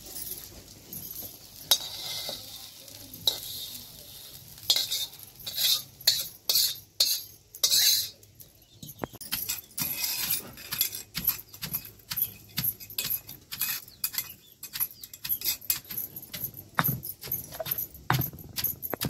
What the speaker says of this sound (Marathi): आता हे ठेचून घ्यायचं दगडी खलबुऱ्यात